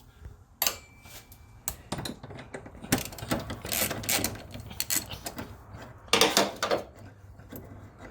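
Ratchet clicking and metallic mechanical rattles while bolts are removed on a 2010 Hyundai Genesis Coupe during turbo oil feed line replacement; irregular close bursts of clicks and clanks, louder near the end.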